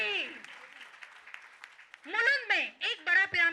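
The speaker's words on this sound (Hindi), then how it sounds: "तो जोरदार तालियां मेरे लिए भी और हम सब भी" An audience at a spiritual discourse gives a short burst of applause that runs under a voice and fades, then someone talks clearly alone.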